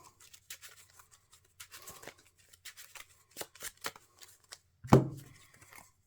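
A deck of Marvel Champions encounter cards is shuffled on a tabletop, with soft riffling flutters and light taps, then a sharper knock near the end, all quiet and close with no talking.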